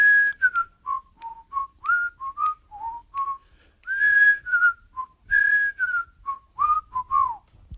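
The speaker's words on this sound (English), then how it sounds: "Whistle along, everybody." A tune is whistled as a series of short melodic phrases with brief pauses between them, clear and close with no talking.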